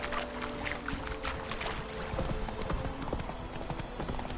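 A horse gallops across open ground in The Witcher 3, its rapid, steady clip-clop of hooves close and loud throughout, with a rider's brief voice over it.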